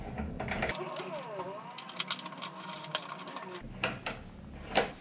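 Screws being driven by hand into an IKEA Markus office chair during assembly, giving irregular ratcheting and mechanical clicks with a few sharper knocks, close and moderately loud.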